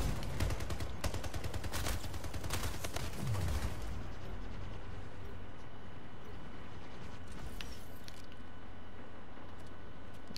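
Sniper rifle fire in the video game Splitgate: a burst of sharp, loud shots in the first few seconds, then quieter in-game ambience.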